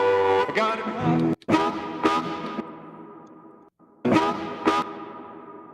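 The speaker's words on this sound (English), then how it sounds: "that reverb is way too long." A live music recording being mixed with an overly long reverb, loud guitar and vocal chords ringing out in long washy tails that decay slowly between sharp, strummed attacks.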